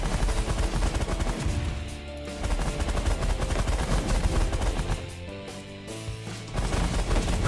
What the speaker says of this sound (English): I don't want to keep firing on the flagship